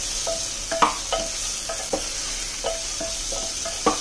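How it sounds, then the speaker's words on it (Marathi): Ridge gourd pieces stir-fried with roasted masala in oil, a steady close sizzle broken by repeated scraping strokes and clinks of a spatula against the pan, roughly twice a second, with no talking. "त्याच्यात दोडका चांगला आपण परतून घ्यायचा आहे"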